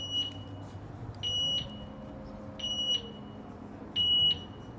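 Reversing vehicle at a Dubai car show sounding a repeated high electronic beep, four evenly spaced pulses over a low engine rumble and crowd murmur.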